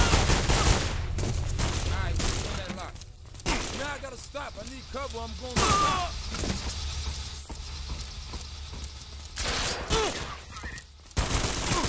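Video game gunfire crackles in bursts of rapid shots mixed with mechanical clatter, loud and busy throughout, while players talk over the shooting.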